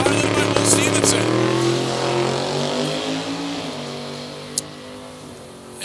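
A 1998 Trans Am drag car from B3 Racing idles loudly at the drag strip starting line, its engine note steady and rumbling, with a commentator talking over it throughout.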